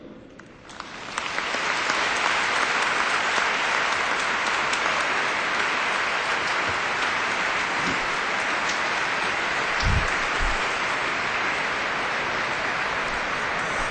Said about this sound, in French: Déjà, tous ces artistes, tous ces musiciens, nous pouvons les applaudir.